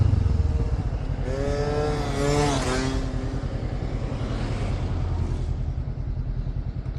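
A 2014 Honda CB500F motorcycle cruising along, its engine a steady close rumble that rises briefly in pitch as it revs, then settles back into an even drone.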